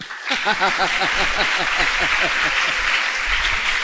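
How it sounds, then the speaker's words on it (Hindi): A crowd at a Jain religious discourse breaks into sustained clapping, dense and loud, running evenly throughout with faint voices and laughter mixed underneath. "बजाओ तालियां।"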